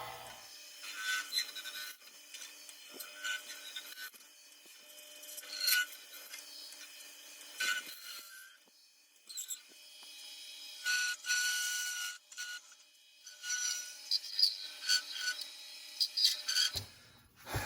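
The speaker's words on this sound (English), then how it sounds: "I'm going to start hollowing." A wooden competition spin top is hollowed out with a hand tool, giving repeated rasping, scraping strokes in uneven bursts, close and moderately quiet, with short pauses between passes.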